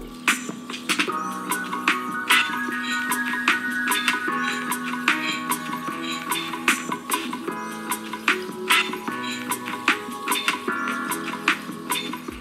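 Music plays through the small built-in speakers of an ASUS ExpertBook B5 Flip OLED laptop, with continuous tonal content and sharp percussive transients at a steady moderate level, no talking.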